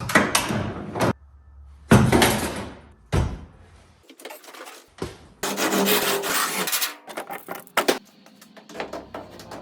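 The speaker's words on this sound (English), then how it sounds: "by the time I sanded it all down and got it smoothed out" Duraglass body filler being sanded down on a Honda Civic car trunk, heard as loud close bursts of rough rasping rub strokes with short gaps between, some longer scrubbing passes, and no talk.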